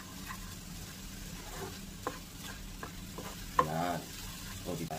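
Scrambled eggs fry in a pan with a soft, continuous sizzle under repeated light scrapes and taps of a spatula stirring. A brief louder clatter comes near the end. No one speaks.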